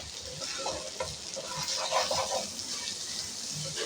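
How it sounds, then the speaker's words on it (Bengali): Polao rice fries in oil with ginger garlic paste, giving a soft steady sizzle with gentle scraping from stirring, close but fairly quiet. "এবার সুন্দর করে পুরার চাউলটা লাল লাল করে ভাজতে হবে"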